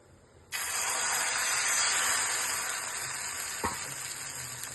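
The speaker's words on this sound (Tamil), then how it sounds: "இப்போ நம்ம தோசை ஊற்றிக்கலாம்." Wheat dosa batter hits a hot griddle and breaks into a sudden loud, bright sizzle close by. The hiss keeps going steadily, with one small clunk near the end.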